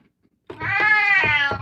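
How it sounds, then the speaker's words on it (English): A cat meows close by in one long, drawn-out, wavering cry that rises and holds, loud and clear with no talking over it, in a quiet room during a free-motion quilting session on a domestic machine. "Oh, cat."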